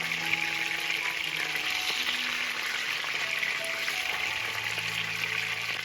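Chicken drumsticks fry steadily in a pan for a Vietnamese recipe, giving a dense, continuous sizzle and crackle with faint clinks, close and fairly loud throughout.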